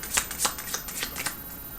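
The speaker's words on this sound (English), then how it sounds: "I gotta shuffle these cards a little slower" A deck of cards being shuffled up close, with several crisp riffling bursts over a little under two seconds and no talking.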